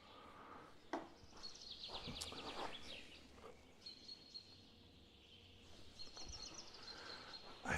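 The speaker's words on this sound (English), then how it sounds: "I feel like this bird tweeting audio is going to be too loud" Birds tweeting outdoors on a golf course: quiet, scattered high chirps and short trills come and go over soft ambient background, with a few faint clicks.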